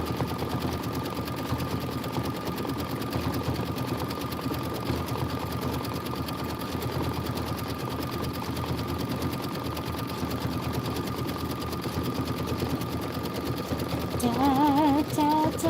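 A home sewing machine runs steadily through a decorative stitch for a Kimberbell Home Sewn pillow tile, a continuous close mechanical whir with a rapid needle rhythm, rising slightly in loudness near the end as a brief voice hums a tune over it.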